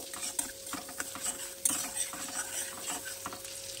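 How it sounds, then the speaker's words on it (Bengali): Chopped ginger and garlic fry in melted butter for fried rice, a soft sizzle close by with intermittent scraping and stirring clicks. "আদা রসুনটাকে একটু ভেজে নেব।"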